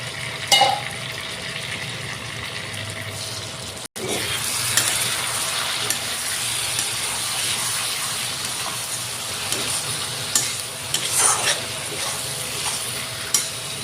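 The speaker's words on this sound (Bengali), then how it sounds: "ভালো করে এইভাবে দুই একবার নাইড়া দিছি আমি, আর অল্প কষবো, ভালো করে কষামু।" Pigeon meat curry frying in a pan while being stirred, with steady sizzling and the scrape of a spoon throughout, a brief dropout near the start, and no talking.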